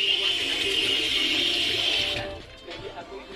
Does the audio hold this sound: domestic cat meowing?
no